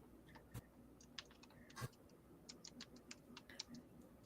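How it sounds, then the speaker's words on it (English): Someone typing on a keyboard, a quiet, irregular scatter of light clicks and taps in a hushed room, with a couple of louder knocks, no talking. "Someone typing and checking?"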